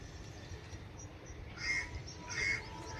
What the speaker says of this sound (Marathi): पक्षी आहेत, पक्ष्याचा आवाज ऐकला असेल.